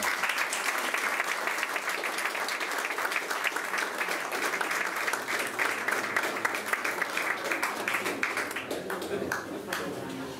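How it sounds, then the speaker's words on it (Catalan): Audience applause for volunteers at the opening of an association's local headquarters, a long stretch of crisp individual claps from a modest crowd, some near and distinct, with faint voices mixed in and thinning toward the end. "Així que demanaria un fort aplaudiment a tots els voluntaris que ens han ajudat a arranjar el local."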